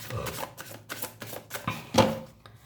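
Tarot cards being shuffled and drawn by hand: a quick series of soft papery riffles and flicks, close up, ending in a sharper snap, with no talk over it.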